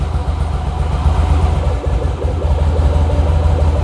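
A cold engine idles steadily without the choke, a close, loud and continuous low rumble with a faint, even pulse and no talk over it.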